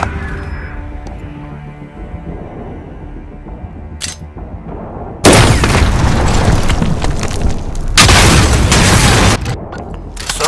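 In Call of Duty Modern Warfare Search and Destroy, a planted bomb goes off with a sudden loud broadband blast that rumbles for several seconds, followed by a second heavy burst, after quieter game ambience.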